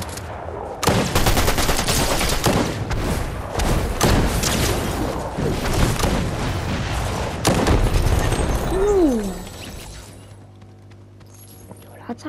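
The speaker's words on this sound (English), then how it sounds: "someone's shooting me." Heavy gunfire in the Fortnite video game, loud overlapping bursts and booming shots near and far, followed by a rising whistle-like sweep and quieter background hum as the action fades.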